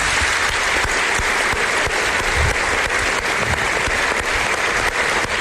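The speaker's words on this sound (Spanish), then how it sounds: "si me acompañan en un aplauso, yo creo que te lo mereces" A studio or hall audience gives dense, sustained applause, loud and even throughout, with occasional louder claps near the front and no pause.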